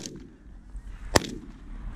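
A single sharp shotgun blast cracks out during a goose hunt, near and loud against a background of outdoor rumble and faint goose honks.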